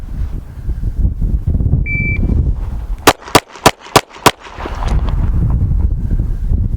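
A shot timer's short electronic beep, followed about a second later by five sharp, loud pistol shots from an S&W M&P 2.0 in quick, even succession, outdoors with wind rumble on the microphone before and after.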